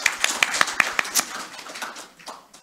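An audience claps for Kiai Fuad in a scattered, uneven rhythm of separate hand claps, moderately close, and the claps thin out toward the end.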